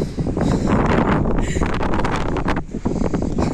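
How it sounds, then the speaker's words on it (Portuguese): Wind gusts at the seaside in Mindelo, buffeting the microphone in rough, uneven bursts that rise and fall over a few seconds, loud and close, with no talk. "Vento."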